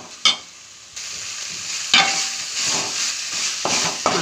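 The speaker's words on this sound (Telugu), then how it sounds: "ఇలాగా ఫ్రై చేసుకోవాలి బాగా" Masala sizzles in a pan for chicken curry, a close, steady frying hiss with sharp stirring scrapes at intervals.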